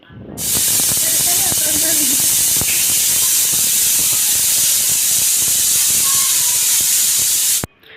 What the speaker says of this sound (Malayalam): പിന്നെ അതാണ്ട് വിസിലൊക്കെ വന്ന് നമ്മൾ കുക്കറൊക്കെ മാറ്റി വെച്ച്